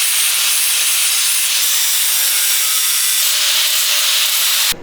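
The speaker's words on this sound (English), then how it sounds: "Connor is cracking on with these quick hitch mounts. George, you can see here behind, he is grinding." An angle grinder bevels and cleans up the corners of steel quick hitch mount plates, a loud continuous abrasive roar held steady for several seconds before cutting off abruptly at the end.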